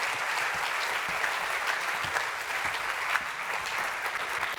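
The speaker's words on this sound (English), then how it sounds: "Please, another round of applause for my colleagues here." Dense, even round of audience applause at The Future Says Surrey launch event, a packed continuous patter holding at a steady level with no voices over it.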